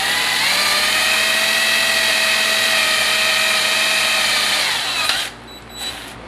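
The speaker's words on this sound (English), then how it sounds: "we're just going to drill a hole in the end here." A power drill whines steadily at high speed boring a hole in plastic for several seconds, loud and close, then winds down and stops with a few brief follow-up bursts.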